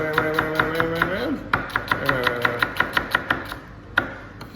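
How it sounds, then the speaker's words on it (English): A knife chops an onion on a board in a home kitchen, giving a steady run of crisp, evenly spaced taps close by, with a brief pause midway. Faint background tones sit under the cutting. "All I do when I'm chopping an onion is, I'll show you this little trick."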